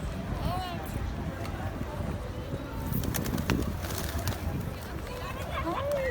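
Pigeons coo softly while being fed outdoors, their low calls mixed with wind and background noise as people talk nearby.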